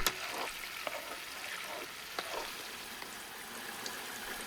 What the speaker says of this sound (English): Let's chop up some tomatoes and toss in the pan.